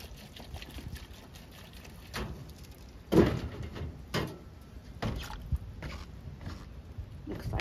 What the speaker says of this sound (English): so let's put some more water in here.